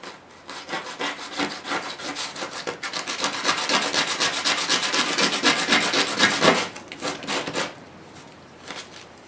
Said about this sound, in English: I'm going to sand them flat with some sandpaper like this